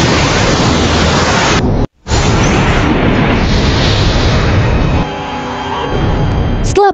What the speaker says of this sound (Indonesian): Tak lama bom tersebut meledak bersama Pel.